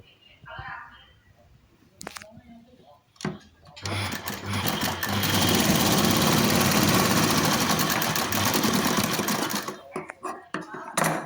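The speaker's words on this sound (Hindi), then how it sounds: "इस फाल के दोनों कोनों को मैं पहले स्टिच कर लूँगी।" A sewing machine runs in one long steady burst, stitching the corners of a saree fall. Brief handling noises and speech come before and after it.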